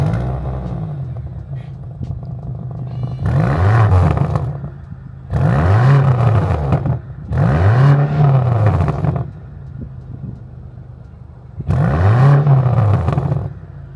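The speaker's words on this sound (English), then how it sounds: "So I'll start it up and you can take a listen." A BMW XM Label Red's 748 hp engine starting and revving, heard as a sustained idle rumble broken by four loud throaty revs that swell and fall back, close and powerful.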